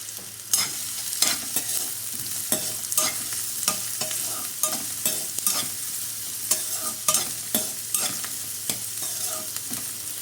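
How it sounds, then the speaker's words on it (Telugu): Small-cut chopped onions frying in hot oil, a constant close sizzle punctuated by frequent scraping stirs of a spoon against the pan, with no voices. "ఆయిల్ హీట్ అయిన తర్వాత 2 మీడియం సైజ్ ఆనియన్స్ ఇలా చిన్న చిన్న ముక్కలుగా కట్ చేసుకుని వేసుకోండి"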